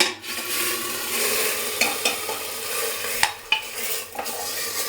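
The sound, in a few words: hot tempering poured into khichdi, sizzling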